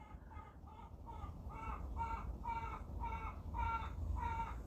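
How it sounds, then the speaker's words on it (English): A chicken outdoors gives a repeated, evenly paced run of clucks and squawks, about eight in a row, faint and somewhat distant over a low background rumble. "And my little chicken friend outside agrees with me."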